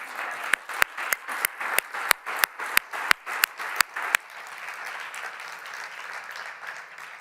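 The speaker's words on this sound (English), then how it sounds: "May I call for your applause?" At a forum's closing session, a few sharp, loud claps ring out in a regular rhythm close by, then a dense wash of audience applause continues steadily behind them.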